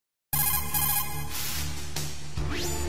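A phone ringtone from a video game sounds after a short silence, a steady electronic ringing tone with repeating pulses and a rising sweep near the end, clear and alone.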